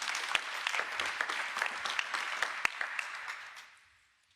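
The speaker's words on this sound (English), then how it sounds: "let's give a round of applause to our district attorney" An audience applauds the district attorney at a gun safety briefing in New York City, steady, dense clapping from a crowd that gradually thins and fades out to silence.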